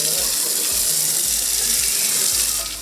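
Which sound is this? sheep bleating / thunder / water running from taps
water running from taps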